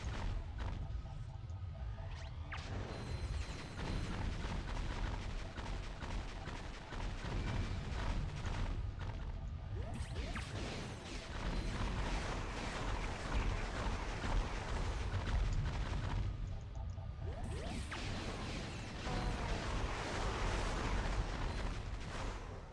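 Dense, continuous weapon fire and blasts from Ratchet & Clank on PS2, a loud, sustained barrage of booms and mechanical clatter that barely lets up, with brief dips before it surges again.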